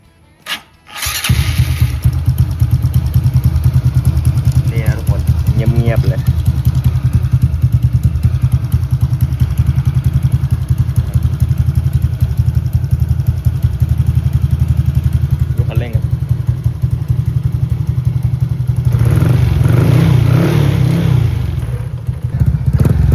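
A Honda Wave 125 motorcycle engine with a 57 mm bore starts up and runs steadily at a loud, rumbling idle, with a couple of brief revs partway through.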